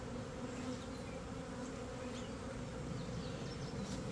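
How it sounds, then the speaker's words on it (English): Honey bees fill the air around a hive with a dense, continuous buzzing drone, steady and close, with individual bees zipping past now and then. "There's lots of bees in the air."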